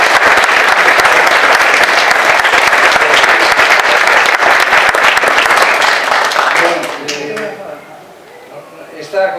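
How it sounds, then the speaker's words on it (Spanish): An audience at a cultural lecture on rock art bursts into loud, dense applause that holds steady for several seconds before fading away, with a voice starting to speak as it dies out. "Un aplauso para él."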